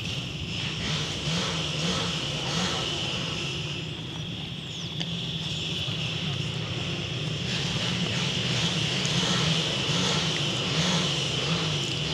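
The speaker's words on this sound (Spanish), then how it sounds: "Si ustedes escuchan muchos motores es porque" Motorcycle engines drone continuously near a river at dusk, with a broad steady roar and occasional rising passes layered over flowing water and wind.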